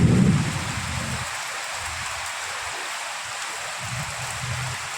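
Heavy rain falls in a steady, broad wash, with a low rumble at the start that could be thunder, then a continuous hiss with faint low rumbles, no voices.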